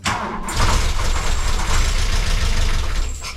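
A VW Golf Mk1 engine cranks and rumbles loudly, nearly catching into a rough idle, then cuts out at the end.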